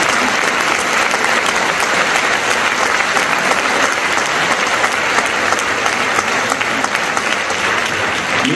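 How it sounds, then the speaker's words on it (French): Loud, sustained audience applause at a French tourism industry gathering, honoring a retiring figure during a speech, a thick constant roar of many clapping hands with no letup. "Vous pouvez l'applaudir"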